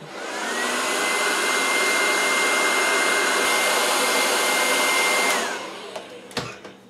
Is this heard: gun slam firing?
no